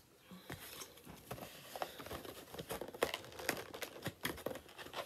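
Foil wrapper of a Pokémon card booster pack torn open by hand, a close crinkly rustle with bursts of ripping and crackling, quiet and alone.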